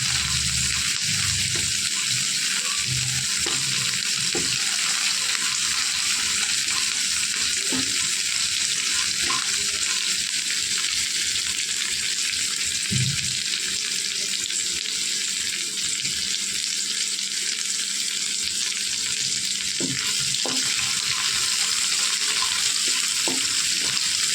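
Onions sizzle steadily in a pan with salt, a continuous dense hiss with low scraping stir noises and occasional clinks throughout, close and fairly loud, no voices.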